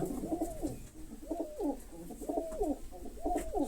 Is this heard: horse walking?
no